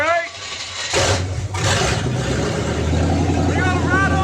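An abandoned military truck engine cranks and catches in a workshop, breaking into a loud, rough, uneven running rumble after a couple of surging bursts, with voices talking over it.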